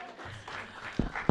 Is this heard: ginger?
no